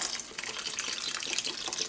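Beef stock, about three cups, pouring steadily into a pot of Irish stew, a continuous splashing liquid stream lasting the whole moment, close and fairly loud with no talking.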